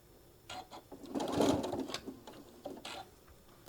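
A sewing machine stitches a quilted table runner in short bursts, a close mechanical whirring rattle swelling in the middle and then tapering into a few quick anchoring stitches.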